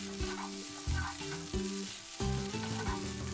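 Eggs scramble in hot oil in a pan, a steady sizzle broken by repeated scraping strokes of the stirring utensil, close and moderately loud.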